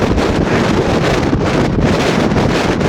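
Steady, heavy wind buffeting the microphone, a continuous low roar with gusty rustling throughout and no voices.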